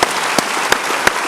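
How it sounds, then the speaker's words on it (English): Steady audience applause for panel speakers at a conference, dense and close, with a few sharper individual claps standing out. "A round of applause for our speakers."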